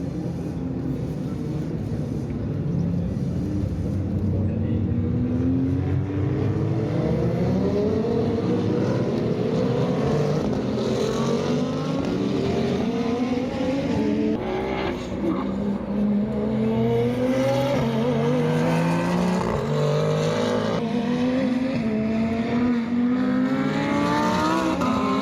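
GT2 race cars at Circuit Paul Ricard during the GT World Challenge, engines loud and continuous as several cars pass in succession, rising and falling pitch sweeping through the track with no talk.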